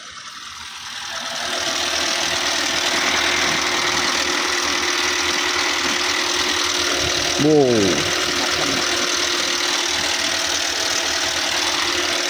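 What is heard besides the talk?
rough-running car engine idling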